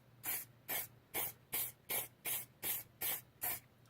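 Nine short, even bursts of spray from a can of clear matte lacquer coat a model car, each close hiss separated by a brief silence in a steady rhythm.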